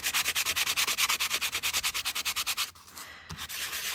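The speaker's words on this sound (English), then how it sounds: "Using little sanding buff." A small sanding buff is rubbed briskly back and forth over a tape-covered tag in quick, even strokes, close and crisp, before a brief pause and a final few softer rubs.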